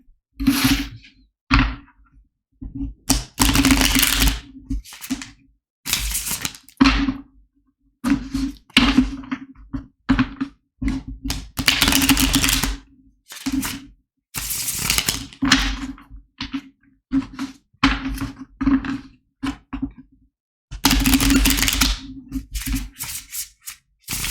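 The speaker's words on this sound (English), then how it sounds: "let's go and shuffle the tarot cards" Repeated papery riffling and soft slaps of cards being shuffled, in irregular bursts close to the listener, with a low steady hum underneath.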